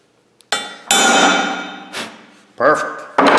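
Sharp metallic hammer blows on a center punch marking steel for drilling while building a custom towing receiver, several loud ringing strikes with decaying tails, close and alone.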